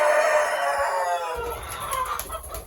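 A hen clucks in short, repeated bursts among pigeon coops, with chicken and pigeon calls among farmyard background noise; no talking.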